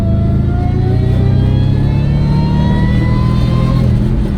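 Supercharged 4.2-litre V8 of a Jaguar S-Type R revving steadily and loudly up close, a continuous deep engine roar with rising harmonic whine, no voices over it.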